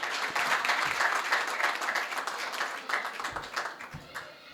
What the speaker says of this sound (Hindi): वाह वाह वाह वाह वाह वाह वाह वाह, जोरदार तालियां।